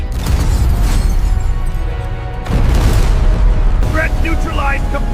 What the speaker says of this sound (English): Incendiary projectile launched. Core magical conduit destroyed.